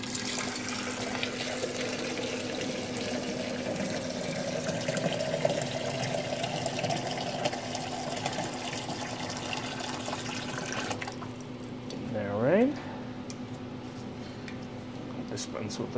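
Water runs and splashes steadily into a 1,000 milliliter beaker for several seconds, then cuts off, followed by a brief rising gurgle near the end.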